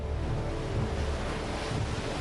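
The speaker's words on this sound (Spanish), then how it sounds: "Actualmente las bañan las olas." Sea waves wash against the coastal caves of Gibraltar on the Mediterranean shore, a steady rushing surf that fills the whole moment without a break, with no voices.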